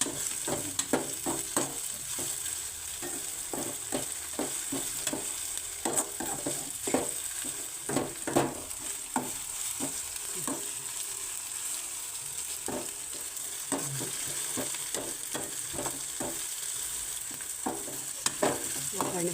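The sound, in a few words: tomato frying and being stirred in a pan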